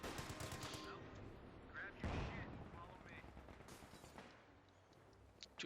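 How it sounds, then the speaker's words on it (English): Light machine gun fire, with M1 carbines in the mix, crackles across a Company of Heroes 2 World War II battle in a 1v1 OKW versus USF match: repeated mid-distance bursts over a busy, dense layer of battlefield noise. "starts to engage from sort of more far away distance with the light machine guns"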